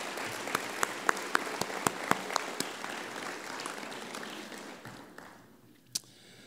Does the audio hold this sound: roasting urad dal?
no